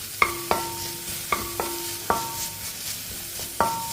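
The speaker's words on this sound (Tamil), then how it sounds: "இதை லைட்டாக கொஞ்சம் வதக்கிக்கிடுவோம்." Chopped green chillies sautéed in a pan: a soft sizzle runs under repeated sharp metallic clinks of a spatula scraping and tapping the pan, about six strokes in under four seconds, close up with no talking.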